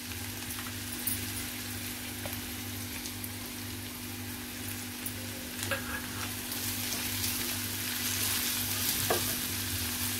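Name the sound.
garlic added to frying onions, sizzling and stirring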